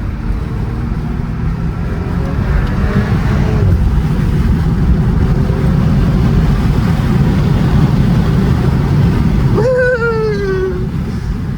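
An Audi S4 drives along with a loud, steady engine and road drone from inside the cabin, and a rising whine near the end.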